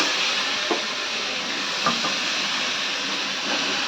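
Ingredients hit a pan of sautéed ginger and garlic with a constant broad hissing sizzle, steady and fairly loud, with a few faint clicks and no speech.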